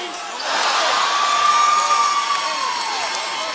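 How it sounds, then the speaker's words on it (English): A basketball crowd at a 2017 Bellarmine versus Findlay Midwest regional final roars and cheers after an open three-pointer, a loud sustained arena-wide swell with a shrill whistle-like tone rising through it. "That might have brought the crowd into a bigger frenzy"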